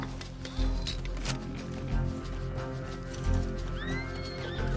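In the video game Red Dead Redemption 2, a horse gives a loud, nearby neigh while its hooves clip-clop steadily beneath it, with ambient outdoor game sounds in the background.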